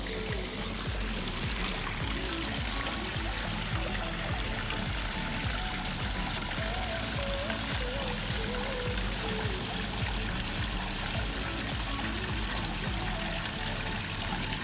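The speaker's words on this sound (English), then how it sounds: "We have fixed the waterfall." A garden waterfall pours steadily into a koi pond, a dense, constant rush and splash of water that stays close and unbroken with no talk.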